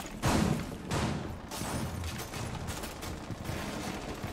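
Shotgun fire in the video game Rainbow Six Siege, a few heavy blasts spaced about a second apart followed by rumbling, crackling gunfire, moderately loud.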